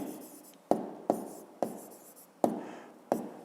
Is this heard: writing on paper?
yes